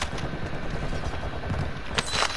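In Call of Duty Warzone on Ashika Island, rooftop shooters let loose sustained automatic gunfire, a dense rattling stream of shots at moderate distance with a sharper burst near the end.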